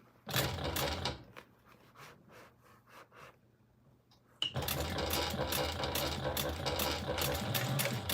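A home sewing machine backstitches on fabric for a baby sling, running in short rhythmic stitching bursts at first, then pausing with small clicks before settling into a loud, continuous close-up whir.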